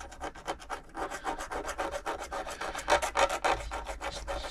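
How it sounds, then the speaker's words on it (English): A metal file rasps in quick repeated strokes over a nicked part of a Singer 237 sewing machine, a close, steady back-and-forth scraping rhythm. "Slight rub over with a file, not too much, just to make it smooth again"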